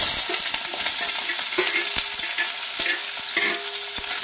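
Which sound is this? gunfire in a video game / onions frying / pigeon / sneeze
onions frying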